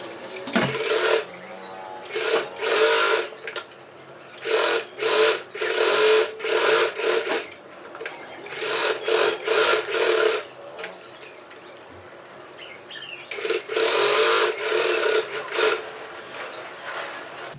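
A sewing machine stitches fabric for an organiser made from an old school uniform, with loud close bursts of rapid needle chatter separated by short pauses.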